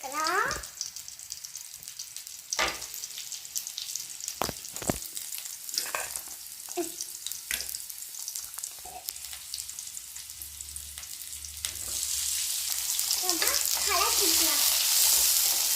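Chopped tomatoes for a carrot chutney fry in a pan, a steady sizzle broken by scattered clinks and scrapes of stirring, with the hiss swelling louder near the end.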